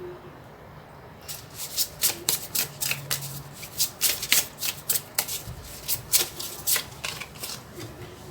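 A tarot deck is riffled and shuffled by hand up close, a rapid series of crisp papery bursts in an uneven rhythm that lasts most of the clip, with quiet room tone behind.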